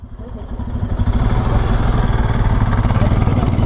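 Motorcycle engine running on a road trip in India, a loud, close, steady throbbing rumble that builds up over the first second and then holds, with no talk.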